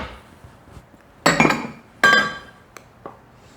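Carrot cake batter with flour is mixed in a bowl, producing a few sharp clinks and scraping knocks of a utensil against the bowl in short irregular bursts, close and fairly loud, with no talk.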